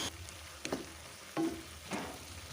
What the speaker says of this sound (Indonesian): Lalu diaduk-aduk kembali sampai tercampur merata.